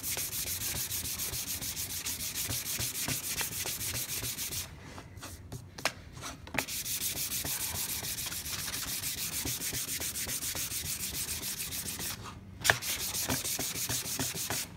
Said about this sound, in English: So you may have to go to some finer sandpaper to get a good finish you can polish from.